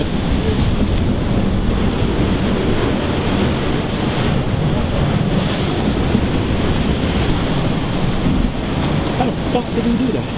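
Ocean waves surging through a blow hole, a loud, constant roar of churning water and spray with wind buffeting the microphone throughout.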